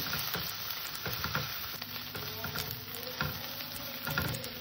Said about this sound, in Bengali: আদা রসুন বাটাটা দিয়ে আমি বেশ খানিকক্ষণ একটু কষে নেব, যাতে আদা রসুনের কাঁচা গন্ধটা না থাকে।